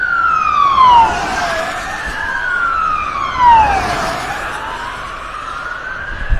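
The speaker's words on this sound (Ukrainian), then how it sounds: "Чую якась сирена, якась служба летить." An ambulance siren wails through repeated rising and falling sweeps, loud and close, over a steady rumble of road traffic.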